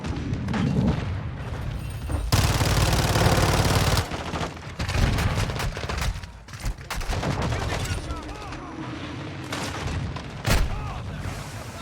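The Fennec submachine gun fires in rapid bursts in Modern Warfare 2 gameplay, alongside booming explosions and heavy battle noise, loud and close, with voices talking over the fighting.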